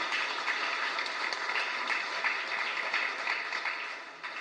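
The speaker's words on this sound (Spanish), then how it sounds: "un fuerte aplauso entonces para ellos" Steady applause from a congregation during a Mass at the San Antonio de Padua chapel in Laurelty, Luque, a fairly faint, even patter of many clapping hands that tapers slightly at the end.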